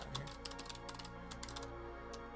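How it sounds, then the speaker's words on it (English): Someone typing a password on a computer keyboard, a quick irregular run of light key clicks with a faint steady hum underneath, close but quiet. "I gotta concentrate as I type my password out here"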